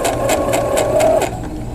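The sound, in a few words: sewing machine stitching quilt seam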